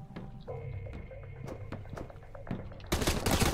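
Machine gun fire in the survival game Sunkenland: rapid bursts of shots crack through a busy mix of clatter and hum, building into a dense, loud volley at the end, with no talking.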